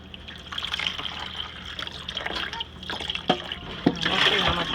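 Water splashes and trickles as tea-dyed hand-dyed yarn is rinsed, with uneven dribbling and a few sharper splashes close by, while a voice talks over it.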